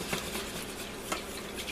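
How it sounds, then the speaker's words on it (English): White pan gravy with tomatoes being whisked in a pan, a steady soft scraping stir with a couple of brief metallic clicks against the sides, close and fairly quiet. "Give it a real good whisk."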